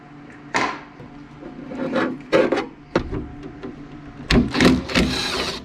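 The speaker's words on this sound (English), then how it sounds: "Grab your window crank, rotate it so that the arms are straight, front to rear." A hand crank turns the gear of a car door window regulator, producing intermittent scraping, grinding rasps in short bursts of uneven length, close up and with no talking.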